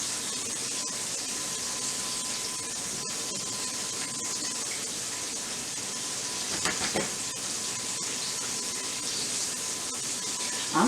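Green tomato slices frying in a pan give a steady, close, even sizzle that runs without a break, with a brief stir or clatter near the end and no talking.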